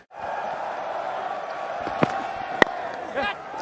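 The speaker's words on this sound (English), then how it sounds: "That will bring a cheer from the Indian fans" Indian cricket fans cheering at the World Test Championship final against New Zealand, a broad sustained stadium crowd roar with a few sharp claps and whoops rising through it.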